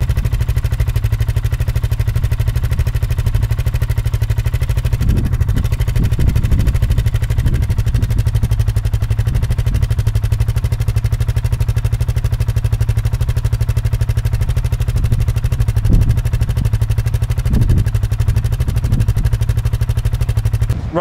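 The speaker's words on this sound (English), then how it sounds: "I've got some sound recordings which I'll just play over the video just so you can hear how this bike actually sounds" A BSA Goldstar 650 single-cylinder motorcycle runs with a constant, loud, rapid low-pitched exhaust thump, holding steady throughout with occasional louder crackles and bursts, and no voices.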